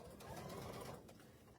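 A sewing machine runs steadily, stitching a quarter-inch seam around the inside of a fabric bag, a short continuous mechanical whir heard close up.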